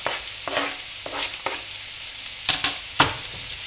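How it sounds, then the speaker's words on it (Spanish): Chopped onion frying in a hot pan with lentils and potatoes, stirred in several separate scraping strokes over a steady close sizzle, with two sharper scrapes near the end. "Movemos un poquito. Y le añadimos la cebolla cortadita."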